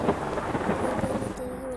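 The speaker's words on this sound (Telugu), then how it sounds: "ఇప్పుడైతే వాన అయితే చాలా పడుతుంది, అందుకే వైపర్ ఆన్ చేశాను." Thunder and heavy rain in the game Bus Simulator India: a brief low rumble over a steady wash of rain, heard without speech.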